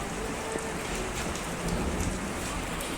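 Heavy rain falls steadily under a cloud-covered sky, with thunder rolling beneath the constant downpour. The hiss is close and even throughout, and no one speaks.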